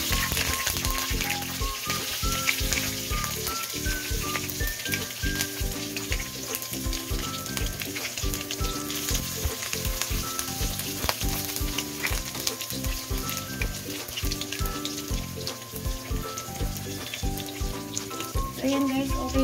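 Onions fry in hot oil in a pan for ginisang monggo with pork and dried dilis, a dense, steady crackling sizzle with occasional stirring clatter, close and continuous throughout.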